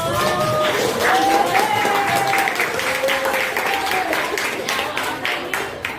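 A room full of people claps steadily and loudly, the applause sustained throughout with a voice speaking briefly over it.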